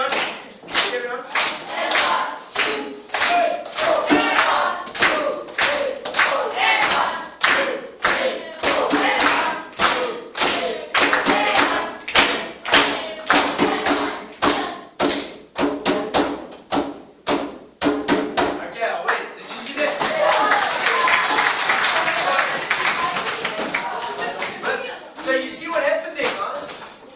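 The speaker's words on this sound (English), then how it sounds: "By your clapping, you gave him a beat, a rhythm to play to" Audience at a motivational drumming talk claps a steady beat, sharp evenly spaced claps for about eighteen seconds before dissolving into looser, continuous applause and cheering.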